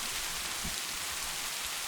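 Heavy rain pours steadily in a cartoon jungle scene, a dense, continuous hiss of downpour with faint low rumbles underneath and no voices.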